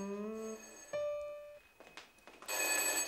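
An old home telephone bell rings indoors in a Syrian family comedy, with a bright tone and then a harsher ringing burst, fairly close and with no talking over it.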